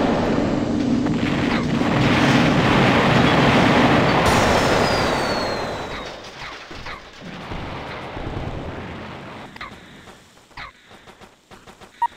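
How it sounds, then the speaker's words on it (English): A pulse cannon fires in the video game Battle Engine Aquila: a heavy, roaring blast sustains for several seconds, then fades into rumbling debris and scattered crackling impacts. "Pulse cannon."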